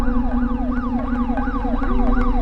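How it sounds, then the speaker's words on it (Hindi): Loud, close police siren in a video game, a rapid repeating wail sweeping up and down about every third of a second over a steady low engine drone, with no voices. "पुलिस का सायरन."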